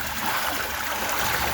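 Flood water rushes along a channel beside an old house, a steady, moderately loud broadband hiss of flowing water with faint gurgling and no pauses or voices.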